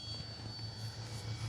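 A Kavan Pilatus PC-6 Porter RC model plane with a 1.5 m wingspan flies overhead, its motor giving a faint, steady whine that holds even and continuous at a distance.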